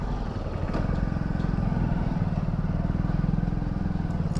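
A motorcycle fitted with an engine plate idles close and loud as it is brought to a stop and parked, a steady rapid thudding putter that runs throughout.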